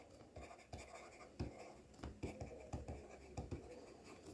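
A pen scratching across paper while an accounting exam question is worked through: quick, uneven strokes and taps, close and quiet, with short pauses between bursts.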